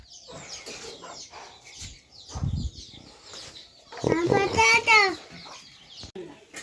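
Chickens cluck and call intermittently around a household yard, with a louder bird cry near the end, mixed in among people talking, including a child.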